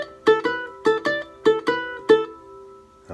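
Ukulele picking the Highland Reel at full tempo, bright plucked notes in quick pairs with a lilting rhythm, clear and close with no voice, ending on a brief final pluck.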